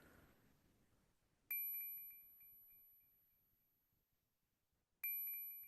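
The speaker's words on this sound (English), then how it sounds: "Listen to the ringing." Bells in a music mix that still needs EQ work, struck twice, about three and a half seconds apart, each hit bright and loud and ringing with a long, slowly fading sustain over a quiet, softer start.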